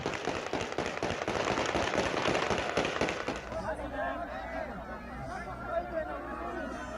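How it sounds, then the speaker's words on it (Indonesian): Rapid bursts of gunfire shot into the air by armed personnel at Kabul airport crackle densely for several seconds amid a panicked crowd, then give way to shouting and crowd chatter. "memicu rentetan tembakan ke udara dari aparat bersenjata"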